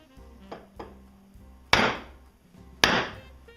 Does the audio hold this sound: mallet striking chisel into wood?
yes